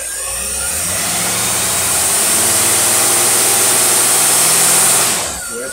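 An engine fitted with a brand-new Holley carburetor runs steadily on a dyno, a loud continuous drone that holds level for about five seconds before easing off at the end.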